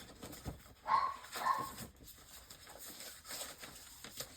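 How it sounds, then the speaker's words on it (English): An agitated dog barks in a couple of sharp bursts indoors, fairly muffled and not very loud, followed by quieter background noise. "And the dog is going berserk."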